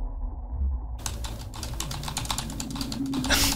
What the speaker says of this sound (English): I'm just fucking slamming on this keyboard.